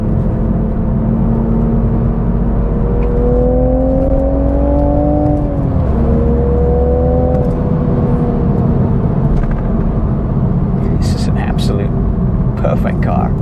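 A 2023 Toyota Supra with a manual gearbox pulls through a third-gear turn on a winding road, its engine note holding a steady drone that dips and rises mid-clip, with loud cabin rumble and a voice talking over it.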